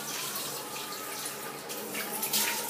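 Water running steadily from a tap while a face is rinsed after makeup, a continuous close splashing rush with slight surges near the end and no speech.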